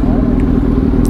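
Kawasaki Z900 motorcycle engine idling just after a cold start on a winter morning, a steady low rumble continuing throughout at close range.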